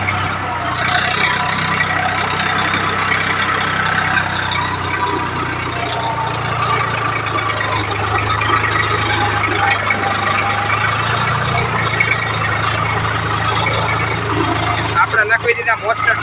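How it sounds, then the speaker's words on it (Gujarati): A farm tractor engine runs nearby with a steady, low idling rumble that persists throughout, a few sharper knocks near the end, and a voice talking over it. "જો અહીંયા ગારો છે, અહીંયા આપણો ટ્રેક્ટર જો."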